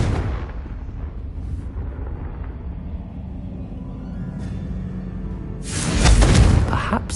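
Confringo, a fire-blast spell cast in the video game Hogwarts Legacy, sets off a loud, close explosive burst near the end, preceded by a low rumbling buildup.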